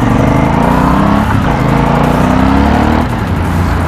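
A twin-cylinder Aprilia Shiver 900 motorcycle engine drones loudly and close, its pitch rising steadily under throttle with a throbbing, rumbling exhaust note.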